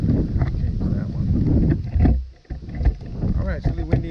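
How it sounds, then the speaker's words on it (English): Strong gusting wind buffets the microphone with a loud, continuous low roar, briefly easing before rushing back. "it's really windy out here"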